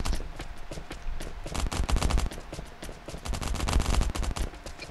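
Rapid bursts of automatic gunfire in the survival shooter Last Island of Survival, loud and dense with repeated shots in quick clusters across the whole stretch, with no talking over them.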